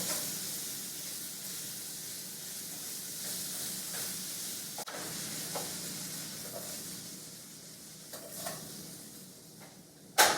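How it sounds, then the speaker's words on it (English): Bacon strips sizzle and crackle steadily in a frying pan as they cook for a quiche, a constant close hiss with occasional sharper pops and tong clatter near the end, no voices. "use the tongs and flip the bacon over so both sides cook"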